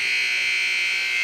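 A basketball arena buzzer sounds at the end of a quarter in a women's college game, one loud, steady electronic tone holding unbroken through the whole moment.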